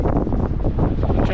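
Blustery wind buffeting the microphone, a dense low rumble with gusty fluctuations and no clear voices.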